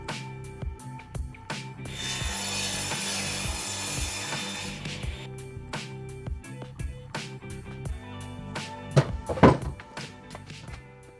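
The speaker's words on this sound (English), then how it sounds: "I'm going to do a couple of small cuts on the radial arm saw for a better fit." Radial arm saw making a couple of short cuts in cedar for a small owl house, a sustained whining cut for a few seconds amid knocks, clunks and handling of wood in a cold shop.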